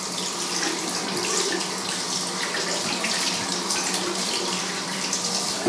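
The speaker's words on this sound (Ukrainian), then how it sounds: "Змиваємо водою." Tap water runs steadily into a sink as hands are rinsed, a constant close hiss and splatter with no talking.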